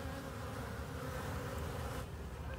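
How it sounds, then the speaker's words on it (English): Honeybees flying in and out at the entrance of an observation hive, producing a dense, continuous buzzing hum close to the microphone, with no voices. "The bees are coming and going."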